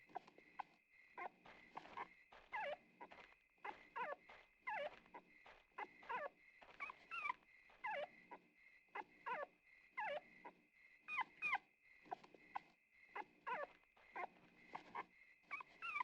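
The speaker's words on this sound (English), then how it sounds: "She heard a dog's bark." In the PS2 game Rule of Rose, a dog barks and whimpers in a repeating pattern of short yelps and whines over a steady game hum, a clean in-game sound with no voices.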